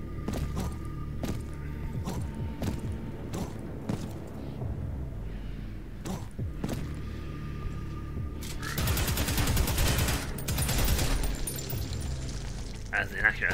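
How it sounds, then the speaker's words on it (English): An assault shotgun fires in Prodeus, a series of sharp, loud blasts spaced a second or two apart, then a dense burst of rapid shots and crashing impacts, with a voice talking between them. "an assault shotgun will absolutely tear a zombie horde to pieces."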